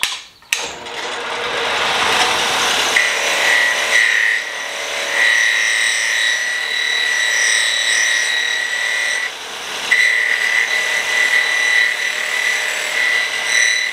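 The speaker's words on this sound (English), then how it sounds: "we're going to get everything cleaned up on the wire wheel" Bench wire wheel cleaning welded metal in a fabrication shop, a loud continuous whirring grind with a high ringing tone that starts after a short spin-up and carries steadily to the end.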